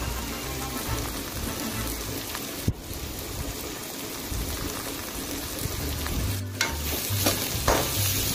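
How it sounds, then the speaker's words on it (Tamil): Onion, crushed garlic, curry leaves and green chili sautéing in a pan for a Sri Lankan style egg gravy, a continuous close crackling sizzle with occasional stirring clatter and no talk. "இப்போது நம்ம கட் பண்ணி வச்சுருக்கிற அந்த வெங்காயம், தட்டி வச்சுருக்கிற வெள்ளைப்பூண்டு, கருவேப்பிலை, பச்சை மிளகாய் அது எல்லாத்தையுமே சேர்த்து வணக்கிக்கலாம்."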